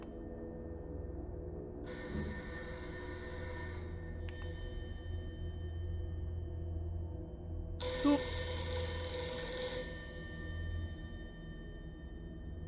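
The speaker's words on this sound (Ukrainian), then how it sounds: "Тут десь телефон дзвонив." A telephone rings in the horror video game Poltergeist Watcher, two separate bursts of a bright, buzzing electronic ring several seconds apart over a low steady background hum.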